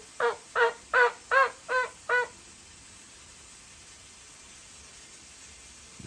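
Wild turkey hens call in the open outdoors with a run of six evenly spaced, rhythmic yelps. The calls are fairly clear over a faint hiss, then fall silent.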